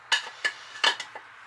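A stainless steel pan being cut as scrap metal gives several sharp metallic clanks and scrapes, about four or five separate hits in an uneven rhythm, close and fairly loud with nothing else around them.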